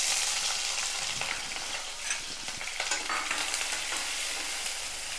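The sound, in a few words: chopped small onions (shallots) sautéing in a pan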